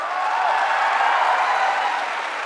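An audience gives sustained, loud applause for mentor Rohit Arora at a Delhi success event, a dense even patter of many hands clapping throughout.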